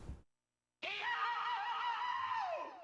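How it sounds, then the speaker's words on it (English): A Super Mario World hack game lets out a sudden, sustained high-pitched scream after a short silence, loud and wavering for about two seconds before trailing off, heard alone. "I forgot that it screams at you."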